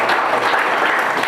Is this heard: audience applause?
yes